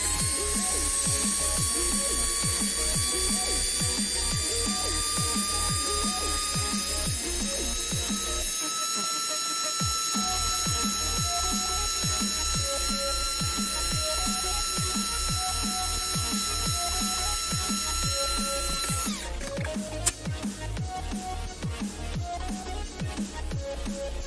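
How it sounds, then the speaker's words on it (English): A small drill whines steadily while boring three holes in a thin strip for a 1/537 scale USS Reliant model kit. The high, even tone holds close and loud, then shifts to a rougher, choppier sound near the end. "just gonna drill 3 holes in it now"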